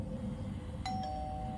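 A doorbell chimes twice, a quick ding-ding whose bright tone lingers over a low background rumble, fairly faint and alone in a game scene.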